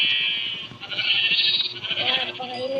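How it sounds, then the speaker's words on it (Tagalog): Sheep bleating at feeding time, several overlapping calls close by over a steady background hum, with a voice speaking faintly beneath. "Kainin natin. Yung mga tupa natin."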